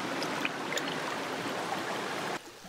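A clear mountain river flowing over wet stones in a forest, a steady, soft rushing and trickling wash that runs continuously at low level before dropping abruptly near the end.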